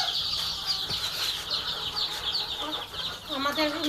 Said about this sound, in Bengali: আমাদের মিশরি মুরগির বাচ্চা মেশিন থেকে বাইর হয়েছে আজকে 3 দিন